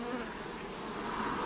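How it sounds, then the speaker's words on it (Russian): Honeybees cluster on the front wall of a hive at an apiary in 36°C heat, giving a dense, steady, close buzzing drone that holds evenly throughout with no talk. "Много пчел сидит на передней стенке улья."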